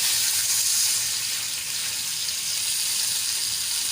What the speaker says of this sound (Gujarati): તો હવે એમાં આપણે પાણી એડ કરીશું